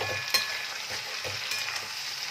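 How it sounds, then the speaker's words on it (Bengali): Vegetable stalks coated in poppy seed paste are stirred in a pan, with a soft continuous sizzle broken by several light scrapes and clinks of the spatula, close up and quiet. "এরকমভাবে একবার নাড়াচাড়া করে নিলাম"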